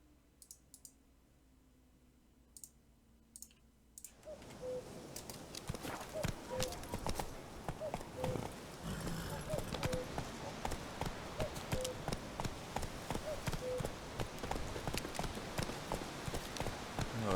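Roach the horse's hooves clip-clop in The Witcher 3, starting abruptly after a quiet opening and settling into a steady rapid gallop rhythm under faint game ambience.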